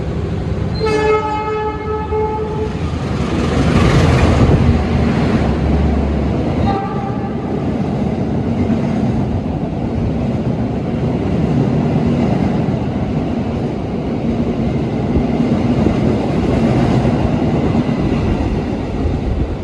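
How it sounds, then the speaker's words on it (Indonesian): The Bima train passes through Cikarang station at speed, overtaking the Menoreh train, with a loud horn blast followed by a sustained close rumble and clatter of passing cars. "kereta api Bima sudah melintas langsung dan berhasil menyusul kereta api Menoreh di stasiun Cikarang"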